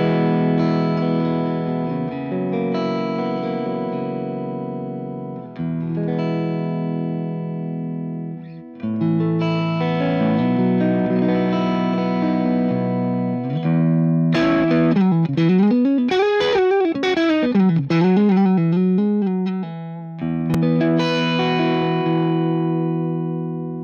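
An electric guitar played through a Wampler Plexi-Drive Mini overdrive pedal rings out in sustained distorted chords and a bending lead passage, loud and alone with no talking.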